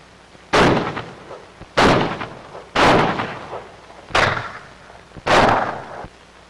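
Five sharp pistol shots ring out in a duel, each a loud, abrupt crack with a short echoing tail, spaced roughly a second apart in a steady sequence.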